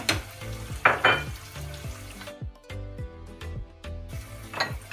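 Onion and peppers sautéing with a spoonful of tomato paste in a pan, giving a steady close sizzle with bursts of stirring and scraping strokes throughout.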